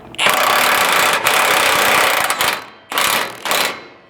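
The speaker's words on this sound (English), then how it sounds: "run your impact, cutting those threads and installing this bolt" An impact wrench drives a bolt into a 4th gen Tacoma truck frame while a rear strike bumper is installed, in loud rapid hammering bursts: one long run, then shorter pulses after brief pauses.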